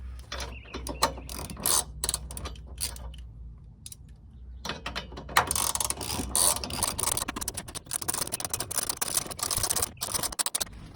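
Ratchet wrench with a 19mm socket snugging the nuts on a factory trailer hitch during installation, giving bursts of close, rapid clicking ratchet strokes that run throughout amid handling noise and a brief quieter gap.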